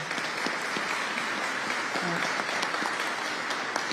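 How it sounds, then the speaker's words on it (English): Steady applause from an audience at a public safety announcement by the New York governor, a continuous wash of many hands clapping at even volume, with a short voice sound in the middle. "Let's give her a round of applause."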